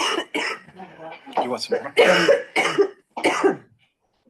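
A woman coughs during a finance committee meeting, a few short harsh bursts mixed with her speech in a quiet room.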